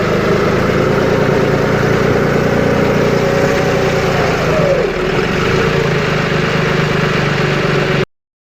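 A tractor engine idles steadily and loudly close by throughout while tractors are loaded in a village, with a steady low rumble that continues until the sound cuts off near the end.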